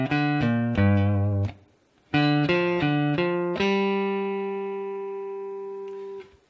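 Electric guitar plays a blues riff variation, a few clipped picked notes in a stop-time pattern, a short pause, then more notes ending on a long ringing chord that slowly fades, loud and close with no voices.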